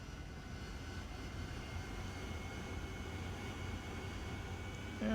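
A jet aircraft engine spools up for takeoff at Senaki air base in the DCS World flight simulator game: a steady, loud roaring drone that holds evenly and swells slightly at the end, with no voices.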